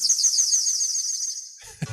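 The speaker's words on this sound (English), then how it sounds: "I see your bouzouki and I raise you a bird." A bird call rings out as a high, sustained warbling whistle that holds for about a second and a half, then cuts to a brief low rustle and thump.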